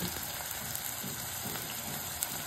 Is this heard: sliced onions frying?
yes